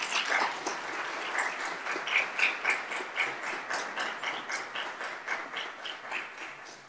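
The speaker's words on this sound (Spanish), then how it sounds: "un fuerte aplauso, por favor, para Susana." An audience claps steadily for a speaker introduced at a talk on game studies and digital literature, a dense run of handclaps that stays fairly loud throughout and slowly thins toward the end.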